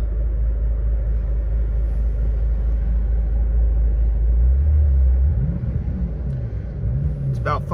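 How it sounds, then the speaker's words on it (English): A Bentley Continental GTC convertible's twin-turbo W12 engine rumbles loudly at idle just after starting, a deep steady drone that swells then settles, with a small shift in pitch near the end. "W12 roars up."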